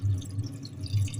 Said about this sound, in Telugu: చూడండి, ఇప్పుడైతే వాటర్ అయితే పోసేస్తున్నాను.